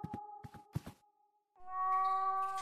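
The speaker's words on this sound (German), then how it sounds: "Hier unten ist das Miauen lauter." A cat meows a few times in short bursts in the video game The Last Door, then a long, steady electronic tone rises in, loud and sustained, like game sound effects.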